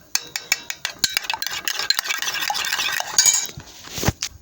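Homemade face cream being stirred in a container, with rapid scraping and clinking strokes of a utensil against the sides, steady and close with no talking.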